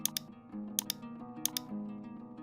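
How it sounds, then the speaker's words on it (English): Keys clatter on a computer keyboard as a prompt is typed, with small clusters of sharp clicks in quick pairs over a soft background tone of music. "we are typing the prompt as anime in the prompt section"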